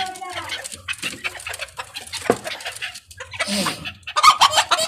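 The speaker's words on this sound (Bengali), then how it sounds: "3 পিস রয়েছে সেব্রাইট, অর্থাৎ একটা মোরগ এবং 2টা মুরগি" Sebright bantams, a rooster and two hens kept on a fancy-poultry farm in Rajshahi, cluck in close, choppy bursts, with a few louder calls toward the end and faint human voices mixed in.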